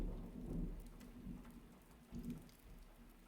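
Steady rain pours during a storm, with low rumbles of thunder rolling in and swelling twice, first near the start and again toward the end, under a continuous hiss of falling water.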